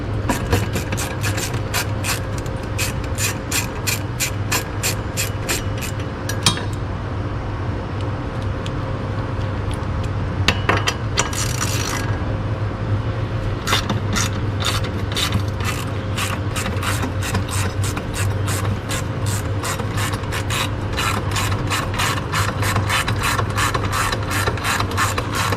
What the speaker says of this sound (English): All you're going to need is a 12mm socket.